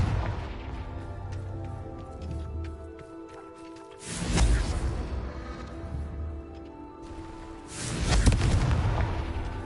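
Confringo blasting spells erupt in Hogwarts Legacy, two loud explosive booms about four seconds apart over a dense rumbling game soundscape.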